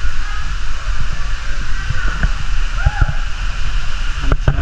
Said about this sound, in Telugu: వచ్చేసినాం మా వాటర్ ఫాల్స్కి.